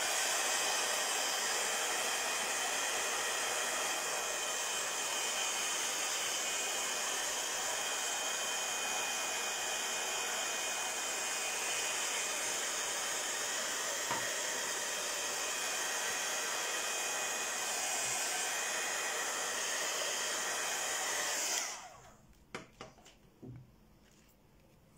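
Hair dryer blowing on a watercolor painting: a loud, steady whooshing roar that runs for about twenty seconds, then cuts off, leaving a few faint handling clicks and taps.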